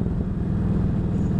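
Yamaha V Star 1300 motorcycle engine braking while slowing into a corner, a steady, close low-pitched engine drone that holds evenly throughout with no voices.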